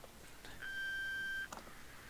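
A phone in the video game Ether One rings with a single sustained electronic beep-like tone lasting under a second, faint against a quiet background.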